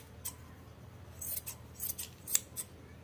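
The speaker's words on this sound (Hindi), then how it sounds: "हम इससे कपड़ा काट के आपको दिखाते हैं किस तरह से बिल्कुल नई कैंची जैसे काम करेगी ये" Freshly sharpened tailor's scissors snip through cloth in a handful of quick, crisp cuts, close and fairly quiet, with short gaps between strokes and no talk.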